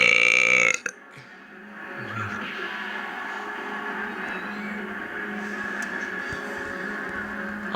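A Tekken 4 fighter lets out a loud, long burp that cuts off abruptly, followed by a quieter game backdrop of steady hum with faint murmuring.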